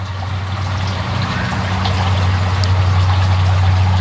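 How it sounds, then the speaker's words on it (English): An outdoor water fountain cascades in a continuous, loud, even rush of splashing water, with a low steady hum beneath it and no voices. "He allows me to listen to this water fountain cascade"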